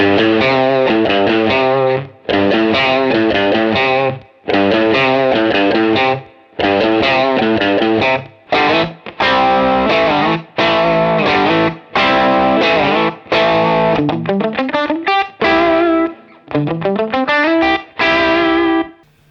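A loud, gritty overdriven electric guitar plays chords and short phrases in bursts, the saturated tone thick and buzzing with brief gaps between.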